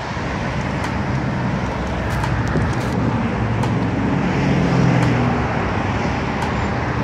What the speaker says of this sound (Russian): Вот такой трафик.